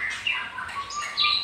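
A songbird being trained for singing gives bright short chirps and tweets, a few quick calls close by over quiet background.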